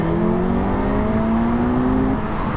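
Two litre-class naked motorcycles, a Honda Hornet SP and a Suzuki GSX-S1000, accelerating hard side by side, a loud close engine roar with rising tones sweeping up steadily, continuous and alone.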